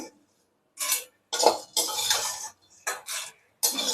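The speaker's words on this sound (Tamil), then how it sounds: "ஏலக்காய் லைட்டாக வறுத்தா போதுங்க" Cardamom pods being dry roasted in a pan, with bursts of rattling, scraping stir strokes separated by short silences, close and fairly loud.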